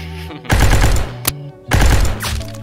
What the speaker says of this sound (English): Oh, gunshots. I'm so scared.